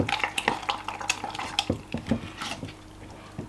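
A spoon works a sauce inside a pot, giving close, irregular clinks and scrapes against the metal in quick bursts, with no one speaking.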